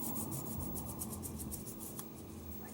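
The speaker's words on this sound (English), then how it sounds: "I like to scuff it up with some sandpaper" Sandpaper scuffs a part of an original Nintendo Game Boy, model DMG-01, during a refurbishing job, making a steady, close rasping rub with a rapid back-and-forth rhythm that runs unbroken throughout.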